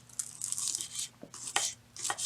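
A knife dices two green onions on a kitchen cutting board, several quick crisp cuts in short bursts, close and fairly quiet.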